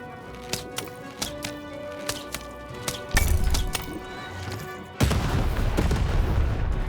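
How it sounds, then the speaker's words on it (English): In the video game Lost In Random, a cannon fires with a heavy boom after a run of sharp tapping hits, and a second blast follows, each leaving a rumbling roar. "Shoot the button to fire the cannon."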